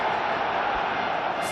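A stadium crowd in a PES football game, Atlético Madrid against Barcelona, gives a broad, steady roar of cheering that fills the whole moment at constant loudness.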